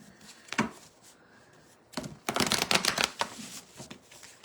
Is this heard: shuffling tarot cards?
yes